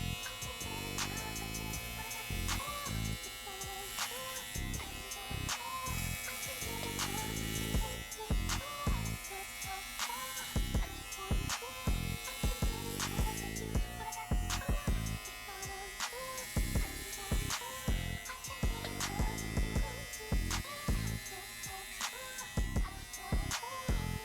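Electric hair clippers buzz close to the microphone while shaving a head into a fade, a steady humming drone broken by repeated short pulses as the blade passes over hair.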